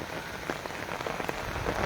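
Torrential rain pours steadily onto surfaces in Taunsa Sharif, a dense, close hiss with scattered heavier drops and no pauses.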